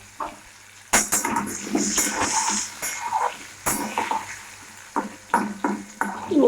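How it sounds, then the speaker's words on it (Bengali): Potatoes fry in hot oil with turmeric and salt for a cauliflower curry, a close sizzle broken by repeated bursts of stirring and scraping in the pan. "উল্টে পাল্টে ভালো করে ভেজে নেব।"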